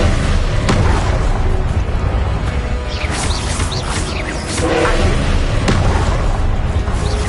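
Confringo blasting spells burst in a sustained roar of explosive booms and crashes during wizard combat in the Hogwarts Legacy video game, loud and dense with no pause, spanning several seconds.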